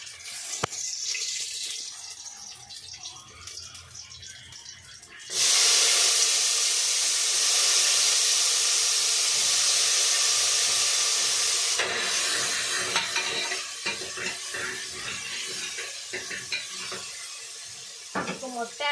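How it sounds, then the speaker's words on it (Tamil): Radish being sautéed in a pan, a loud steady sizzle broken by scraping and stirring of a spatula, close and continuous with no voices. "நல்லா வதக்கணும் முள்ளங்காய் முள்ளங்காய்"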